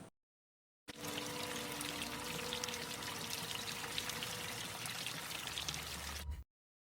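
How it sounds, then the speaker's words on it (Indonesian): Water runs from an open tap into a basement in the film A Quiet Place, a steady, faint pouring stream that starts abruptly, holds evenly for about five seconds, then cuts off into silence. "keran air terbuka di mana airnya akan masuk ke ruang bawah tanah"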